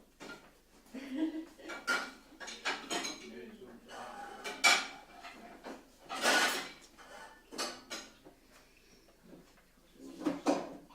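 Small bowls clink and knock against one another and a hard surface in a home kitchen, a run of close, irregular clatters with brief pauses between handlings.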